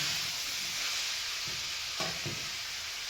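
Onion with mutton masala sizzling steadily in a hot pan, a dense continuous fry hiss close up, with a couple of soft stirring scrapes toward the end.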